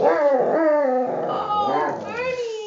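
A puppy yips and whines in a rising, howling string of short cries, close and clear with no talk over it.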